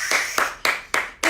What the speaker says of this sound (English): Let's get the hand clapping going.